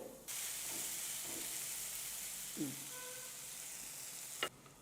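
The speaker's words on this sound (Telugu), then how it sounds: "ఒక 2 మినిట్స్ సిమ్లో పెట్టి కొద్దిగా ఫ్రై అవ్వనివ్వాలి" Cauliflower frying in a covered pan on low heat, a steady soft sizzle and hiss under the lid with a faint scrape midway and a sharper clatter near the end, no talking.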